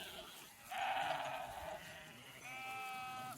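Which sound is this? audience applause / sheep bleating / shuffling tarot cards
sheep bleating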